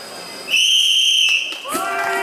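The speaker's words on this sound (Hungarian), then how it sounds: "sípszóra indulunk" A single long, piercing whistle blast rings out over a buzz of voices to start a race at the 2013 Szilvásvárad Marathon, then cuts off as crowd noise and talk swell.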